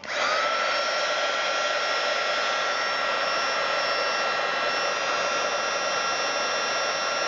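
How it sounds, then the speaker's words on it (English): A heat embossing tool blows hot air in a steady, even whine and rush, close and continuous from start to finish, used for card-making embossing with no talking over it. "And then I'm going to use my heat embosser."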